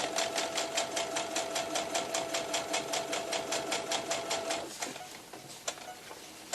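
Baby blanket squares are chain sewn on a sewing machine, its steady rapid stitching pulsing evenly for about five seconds before stopping, followed by a few light clicks and rustles of fabric close by.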